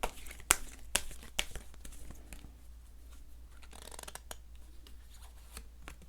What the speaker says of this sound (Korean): 조언 카드 한 장 더 볼까요?